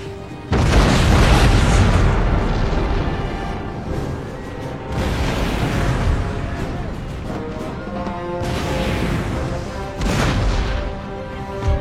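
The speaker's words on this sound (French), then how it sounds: "Canon de 6 livres, paré à tirer." Three heavy booms from a six-pounder cannon in a game, each a loud deep blast with a long rumbling decay, spaced a few seconds apart.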